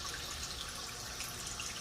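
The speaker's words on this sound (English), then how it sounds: "as you can clearly see from all the muddy water coming out, we are rinsing pretty well so far" Water runs steadily through rocks being rinsed for a new pond, a soft continuous trickling wash heard alone at low level.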